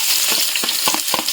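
Carrot, cabbage and onion sizzle and crackle steadily in hot oil in a pan, with occasional stirring scrapes and no voices, close and continuous.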